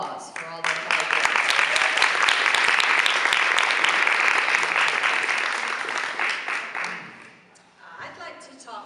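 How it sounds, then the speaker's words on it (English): An audience applauds the Peace and Justice Club in a long, dense round of clapping that fades near the end, with a voice briefly rising over it. "the Peace and Justice Club should have a round of applause for all their hard work"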